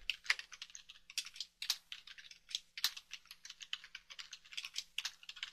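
Computer keyboard typing in a steady, rapid stream of close, crisp key taps with small bursts and accents, heard alone without talk over a faint low hum.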